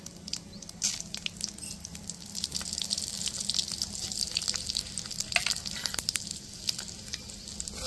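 Panch phoron spices sizzling in hot oil in a kadai, with bay leaves and dried red chillies already in the pan, crackling and popping steadily over a continuous frying hiss.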